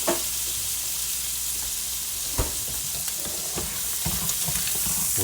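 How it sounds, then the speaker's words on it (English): Breakfast burrito filling with breakfast sausage and lime juice frying in a pan, a bright continuous hiss with occasional scraping stirs and soft knocks, close and alone. "Mix that up, mix it around."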